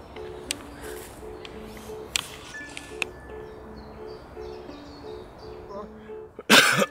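A person coughs in a sharp, loud burst near the end, with faint indoor background before it during an exercise session at home with a bedsheet.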